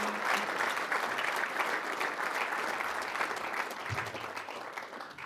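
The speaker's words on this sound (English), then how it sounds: "one more round of applause for Mikaela, her family and coaches." Sustained audience applause fills an award ceremony for the AAU James E. Sullivan Award, a dense, steady wash of clapping from a large crowd that holds for several seconds without any talk over it.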